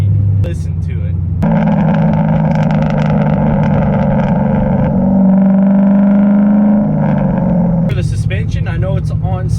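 Mercury Marauder family car with Bilstein shocks and lowering springs, its V8 engine idling steadily and loud up close, a deep rumble with a brief rise in pitch midway and a few short bursts of talk at the start and end.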